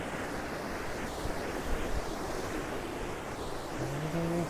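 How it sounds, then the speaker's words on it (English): A mountain waterfall near Manali roars in a dense, constant rush of water, with wind buffeting the microphone throughout. "I am showing them the waterfall."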